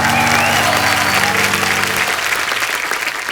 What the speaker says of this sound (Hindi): इस खूबसूरत परफॉर्मेंस के लिए जोरदार तालियां